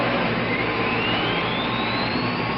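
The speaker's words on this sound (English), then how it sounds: "A product of Convair, this Delta Wing jet interceptor is equipped with data link for automatic" Convair F-106 Delta Dart delta-wing jet interceptor engine roaring steadily, a loud broadband jet rush with a faint rising whine, no voices.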